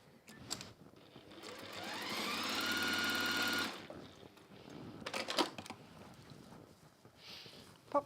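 Sewing machine stitching closed the turning gap on a quilted scrappy log cabin project, a steady whirring run of about two seconds with quieter handling and rustling of fabric before and after.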